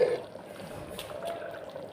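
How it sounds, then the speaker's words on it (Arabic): Garlic tomato sauce is poured onto cooked okra in a pot, a soft, close, steady trickle and slosh that runs for a couple of seconds. "هنزل عليها بقى بالصلصه اللي انا عملتها بالثوم اهو بالشكل ده"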